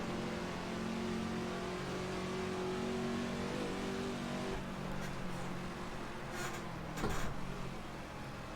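Race car engine in Assetto Corsa running a 1967 Le Mans circuit mod, droning steadily at high revs with shifting pitch, then dropping off as the driver brakes, with brief sharp bursts near the end.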